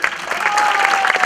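A short burst of audience applause in a cinema before a screening, dense and even throughout.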